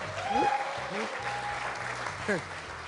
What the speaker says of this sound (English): This one even I have to clap for.